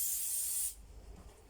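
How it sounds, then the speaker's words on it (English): A steady hiss of aerosol cooking spray onto a baking pan for under a second, then it cuts off, leaving quiet room tone with faint handling bumps. "I'm just going to add some spray and cook."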